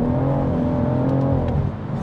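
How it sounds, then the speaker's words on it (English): A BMW M140i revving hard as its wheels spin in fourth gear on a greasy road, a loud sustained engine drone that eases off slightly at the end. "Woo-hoo, spinning in fourth"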